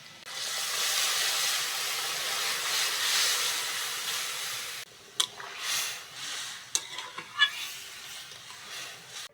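Dried chillies, whole cumin, potato and peas for vegetarian ghugni sizzle loudly in hot oil, a dense steady hiss for about five seconds, then quieter frying with scattered pops and crackles.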